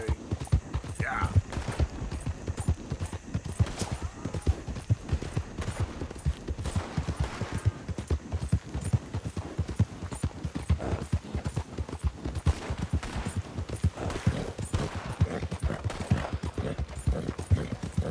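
Horse hooves clip-clop in a rapid, steady gallop in Red Dead Redemption 2, dense, even beats running the whole length with a brief whinny early on.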